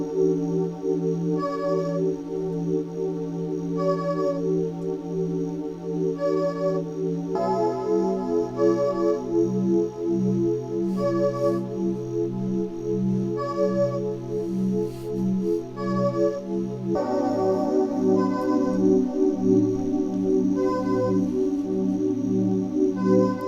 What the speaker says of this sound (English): the whole song kind of centers around this Jupiter 8 patch that's playing these really long sustained chords